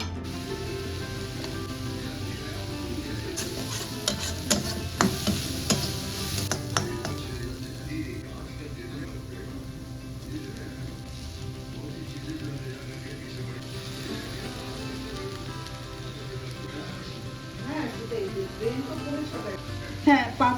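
Onion, chilli, turmeric and coriander powder sizzle in a pan for an aloo paratha filling, a continuous frying hiss with scraping stirs and occasional clinks, while a voice talks throughout.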